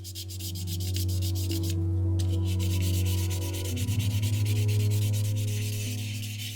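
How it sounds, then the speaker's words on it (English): Steady, continuous rubbing of sandpaper over hardened resin, moving between 400 and 1000 grit, a loud close scratching hiss with a constant low hum running beneath it. "I didn't have any 500 or 600 grit sanding paper, so I went from 400 to 1000"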